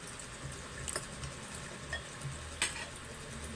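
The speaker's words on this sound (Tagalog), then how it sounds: "Lutuin yung buhay na tilapia." Live tilapia cooking in a pan gives a soft, continuous sizzle with faint stirring and occasional light clinks of utensils, fairly quiet and without talk.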